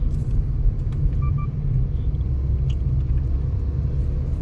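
A Suzuki Fronx accelerates hard in second gear, its engine a steady, loud low rumble heard from inside the cabin along with road noise, with no voices.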